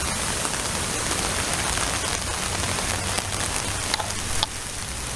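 Heavy rain falling outdoors during a storm walk, a dense, continuous hiss and patter on surfaces with a few sharper drops, loud and steady throughout with no voices.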